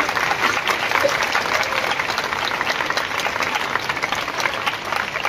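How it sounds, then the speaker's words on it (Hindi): Steady, loud audience applause fills a school hall during an Urdu elocution competition in Malegaon, a dense wash of many hands clapping without a break. "जोरदार तालियों से एक मरतबा फिर इस्तकबाल कीजिए"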